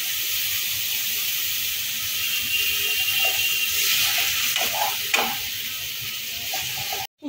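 Tamarind water hits dry spices frying in a pan, giving a steady, close hiss and sizzle with a few light clinks of stirring and a short burst near the end before it cuts off.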